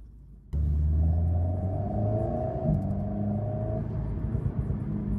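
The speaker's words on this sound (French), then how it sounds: "Et alors le turbo, on l'entend quand même pas mal hein" An Alpine A110S engine starts rumbling abruptly and rises into a steady revving drone, with a faint turbo whir layered above the engine note, close and fairly loud, with no talking.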